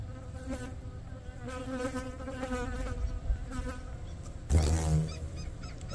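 Yellow paper wasps buzz around their nest close by, a steady, continuous insect drone that swells louder near the end as one flies past, with no talking.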